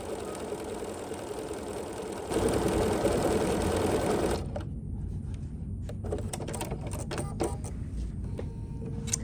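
A sewing machine runs a zigzag stitch between rows of orange and yellow stitching, a steady mechanical whirr that grows louder for a couple of seconds, then breaks into stop-start bursts and clicks near the microphone.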